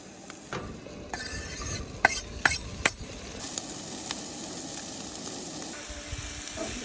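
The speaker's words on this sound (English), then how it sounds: "Getting the veggies all cooked up first" Vegetables sizzle in a pan on a camp stove while truck camping at the Grand Canyon South Rim, a steady frying hiss broken by sharp clinks and scrapes of a utensil stirring against the pan.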